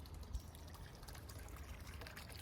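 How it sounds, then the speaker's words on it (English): A yard water fountain that doubles as a dog water bowl trickles steadily outdoors, a faint, continuous low splashing and dribbling with no pauses and no voices. "Another fountain out here, which is basically another dog water bowl."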